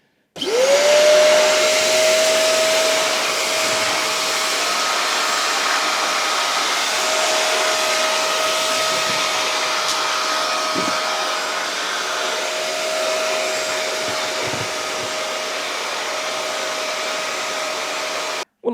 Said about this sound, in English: just to give this Hoover a test.